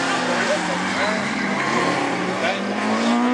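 A Peugeot 205 GTI race car revs hard at the start of a club race, a loud, sustained engine roar with rising tone and a hint of tire squeal, heard close and continuous.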